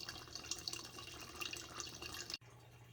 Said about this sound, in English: The hose has been run from the bucket to the floor drain to drain the remainder of the water from the tank.